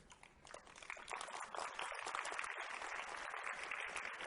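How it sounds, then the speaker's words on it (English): Audience applause after a university life-science lecture, a faint, dense patter of clapping that builds slightly and holds steady. "Let's again express our gratitude to Professor Ng for his wonderful lecture with a round of applause."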